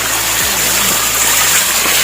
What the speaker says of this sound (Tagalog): Uy, may falls dito